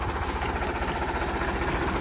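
A tractor engine running close by, a steady low, throbbing idle rumble with even vibration and no break for the whole stretch, no voices over it.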